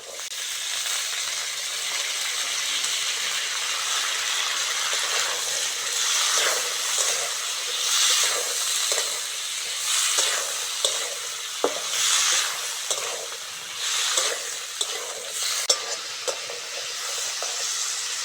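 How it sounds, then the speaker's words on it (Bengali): Carrot, tomato, green chili and peas fry in oil in a pan, a steady close sizzle with occasional stirring clinks and scrapes throughout. "সবজিগুলো ভালো করে ভেজে নিয়েছি"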